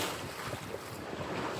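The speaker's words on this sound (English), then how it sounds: "Just going a little easy, banging into this head sea, rolling around a little bit." A boat pushes into a head sea off the Spanish coast, with a continuous rush of wind and water against the hull and low thuds of the waves, close and steady, no speech.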